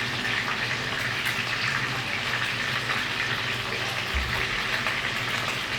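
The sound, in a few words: duck being seared in a pan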